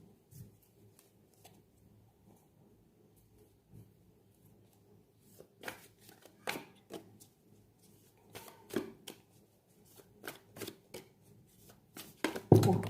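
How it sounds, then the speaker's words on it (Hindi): Tarot cards are shuffled quietly up close, soft rustles giving way to a run of sharper slaps and flutters as many cards spill and fall, growing louder toward the end. "बहुत सारे कार्ड गिरे हैं"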